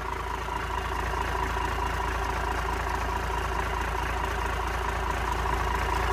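A Cummins L375 diesel engine idles smoothly and steadily, a dense continuous low rumble with an even throb, close and unchanging throughout.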